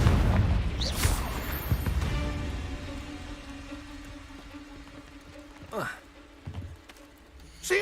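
A Confringo spell in Hogwarts Legacy sets off a booming blast and crackling burst near the start, and softer whooshing impacts follow later, with a voice talking over the sounds.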